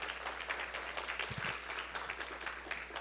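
A church congregation applauds during a sermon, a soft, distant wash of clapping that stays steady for a few seconds, with a faint low thump partway through.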